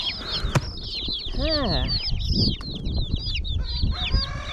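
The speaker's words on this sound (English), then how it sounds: "Some of these are meat chicks, and some of these are gonna be added to the layer flock" A box of newly arrived hatchery chicks, a mix of meat chicks and Delaware broilers, peep in a dense shrill chorus of rapid high chirps close by, with rustling, a few low clucks and a voice talking over them.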